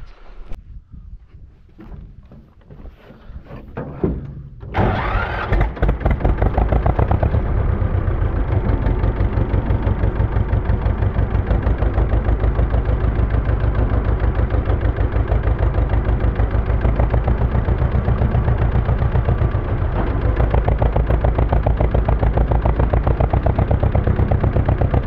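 A farm tractor engine starts after a quiet stretch and runs with a loud, steady, rhythmic low chug as it drives off across a field, continuing unchanged to the end.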